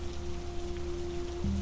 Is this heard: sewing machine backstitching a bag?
no